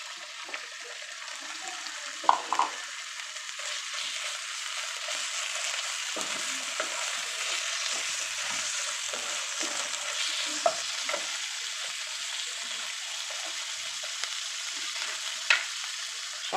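Chicken frying with onion and green chilies in a pan, a steady sizzle running throughout with occasional spoon scrapes and knocks against the pan, close and moderately loud.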